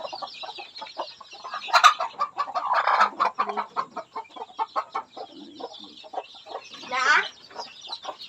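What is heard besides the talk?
chickens clucking on a farm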